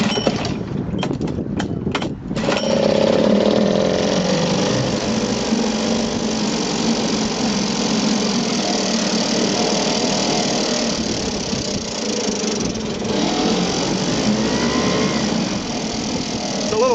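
A small 1967-68 Yamaha P-35 3.5hp outboard motor, started cold, sputters briefly, then catches and runs steadily at a loud, buzzing idle for the rest of the time.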